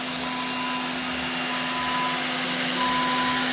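A robot floor cleaner vacuums inside a store in Canada, giving a steady, unbroken motor whine with a constant hum that holds level throughout, close and with no talk.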